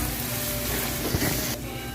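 Beef cubes sizzle in a pan with browned garlic and onion and a little rock salt, a steady close frying hiss with a brief stirring clatter before the sizzle drops slightly.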